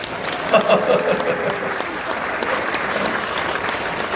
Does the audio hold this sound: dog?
no